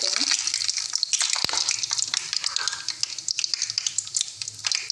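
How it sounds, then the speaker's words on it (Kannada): Peanuts frying in hot oil with mustard seeds, a continuous bright sizzle and crackle with scattered pops and one sharp knock, close and fairly loud with no talking. "ಇದೊಂದು ಸ್ವಲ್ಪ ಫ್ರೈ ಆಗ್ಬೇಕು ನೋಡ್ರಿ ಶೇಂಗಾ"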